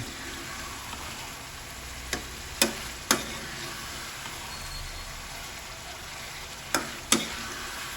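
Pork binagoongan with eggplant sizzling steadily in a pan while being stirred, with a few sharp clicks of the utensil against the pan standing out over the continuous frying hiss.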